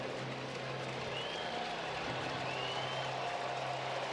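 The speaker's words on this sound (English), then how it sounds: "They're on their feet. They're tired of losing. Big Saturday crowd here in Cincinnati." A big Saturday crowd stands in a Cincinnati baseball stadium during a Reds game against the Houston Astros, sending up a steady, distant roar of cheering and applause with no sharp peaks.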